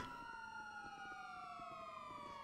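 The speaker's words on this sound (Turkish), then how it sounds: "Bozuk bir sireni kapar mısın?" A police car siren in a GTA V roleplay game wails steadily, its tone gliding slowly downward, continuous and fairly faint with no voices.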